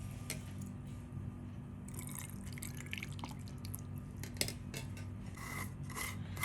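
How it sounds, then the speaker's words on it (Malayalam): Water trickles and drips into a bowl over lemons, with soft splashing and rubbing noises close by over a low steady hum, no talk. "നാരങ്ങ മുങ്ങിക്കിടക്കുന്ന തരത്തിൽ വെള്ളം ഒഴിക്കണം."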